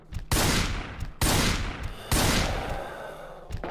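Three loud, close gunshot blasts go off in Resident Evil 2, spaced about a second apart, and each one leaves a long reverberating decay before the next.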